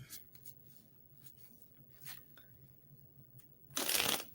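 A deck of cards being shuffled in a quiet indoor setting: a few light riffles and ticks, then a loud, dense burst of rapid card flutter close to the microphone near the end.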